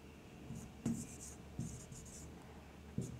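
Chalk or marker strokes on a classroom board during an English grammar lesson, a few short scratchy bursts spaced about a second apart, close and fairly quiet with no talking.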